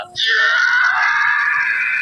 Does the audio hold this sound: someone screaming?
yes